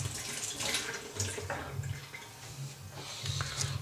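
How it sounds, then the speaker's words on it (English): Tap water runs and splashes as a pH sensor is rinsed off under it, a fairly faint, continuous close trickle with uneven surges. "Let me rinse that off."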